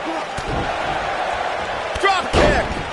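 A drop kick slams home in a wrestling video game in front of a fired-up pay-per-view arena crowd, a couple of sharp heavy thuds over steady crowd noise.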